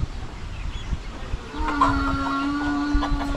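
Chickens cluck and a rooster lets out a long, steady crow partway through, over a noisy farmyard background.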